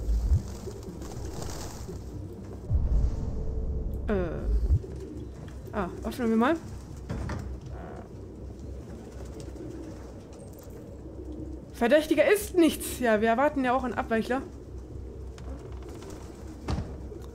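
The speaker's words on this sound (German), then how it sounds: "Mein Gott, diese ganzen Vögel." Pigeons coo in rhythmic, warbling bursts around a Detroit: Become Human game location, a pair of calls early and a denser cluster later, heard beneath steady game ambience while someone speaks German over much of it.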